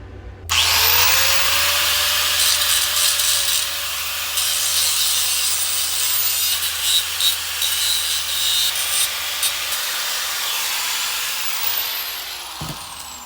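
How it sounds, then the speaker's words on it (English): Grinder working down a weld on a metal part held in a vise to match a pulley, one long loud continuous abrasive rasp that runs steadily throughout and spins up at the start. "Now let's grind that down nicely and match it to the pulley."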